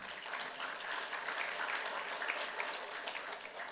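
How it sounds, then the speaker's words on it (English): An audience of parents at an orientation event claps together in a soft, continuous patter of many hands, heard at a distance and fairly quiet, swelling slightly and then tapering. "I want you all to clap for yourselves for being here"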